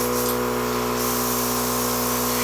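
An airbrush sprays makeup in a steady, close hiss with a constant compressor hum underneath, the spray briefly stronger at the start before settling into an even flow.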